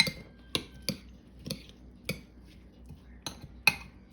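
A spoon stirs seasoned salsa with garlic and pepper in a bowl, making a series of light, irregular clinks and scrapes against the dish, close up and with no talking.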